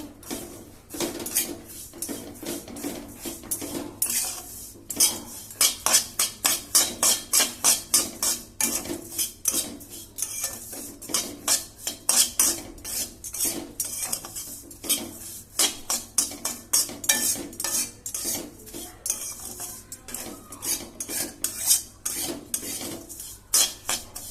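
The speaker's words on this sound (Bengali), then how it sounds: "দিয়ে সেমইটাকে ভাজা ভাজা করে নেব" Vermicelli is fried in ghee in a kadai while a utensil stirs it, producing repeated rhythmic metallic scraping and clinking against the pan, loud and close, over a soft sizzle.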